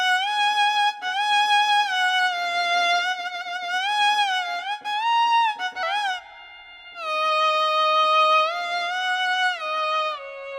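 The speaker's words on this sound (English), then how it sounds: "we turn the portamento on and we can mess with the glide" A solo violin preset on a synth plays a slow melodic line with portamento, notes gliding smoothly up and down between pitches, clear and up close with brief gaps and no talking.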